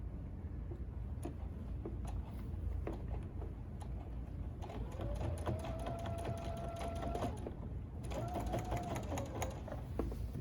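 A sewing machine stitches fabric around a curve, a steady fast mechanical whir with brief pauses and restarts and a faint rising motor tone, close by and without speech.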